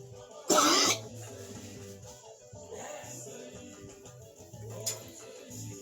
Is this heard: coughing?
yes